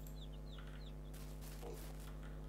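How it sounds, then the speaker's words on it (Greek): Chickens cluck and chirp in the farming video game Ranch Simulator, a few short calls fairly faint over a steady low electronic hum, with a brief rustle near the end. "Όπα, εδώ έχουμε κοτόπουλα μέσα."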